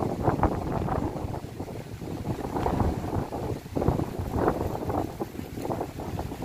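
Strong wind buffets the microphone in heavy, uneven rumbling gusts along a canal walking path, loud and constant throughout.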